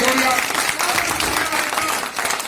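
Listeners at a Hindi poetry recital applaud in a dense, steady burst of clapping, with voices mixed in underneath.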